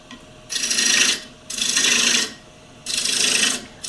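Woodturning tool cutting wood down toward a tenon on a lathe, three rasping scraping passes, each lasting about half a second to a second with short pauses between, close and clear.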